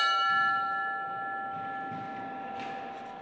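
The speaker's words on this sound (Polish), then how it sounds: "Nie raz i nie dwa słyszeli ten dzwonek." A prison bell rings with a steady, sustained metallic tone, its harmonics held clearly throughout as it slowly fades, with no voices over it.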